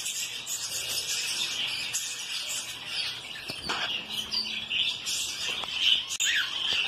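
Many kinds of exotic birds in a breeding aviary chirp and sing continuously, a dense overlapping chorus of tweets and calls with a steady background hiss and no talking.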